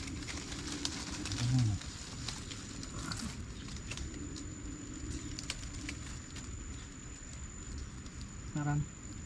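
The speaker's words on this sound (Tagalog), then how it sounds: "Yan. Ulan lang yan." Steady rain falls in a forest, a soft continuous patter of drops on foliage and ground, with occasional faint thumps and brief voices nearby.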